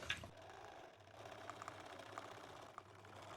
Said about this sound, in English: Again, quilting all the lines I have marked.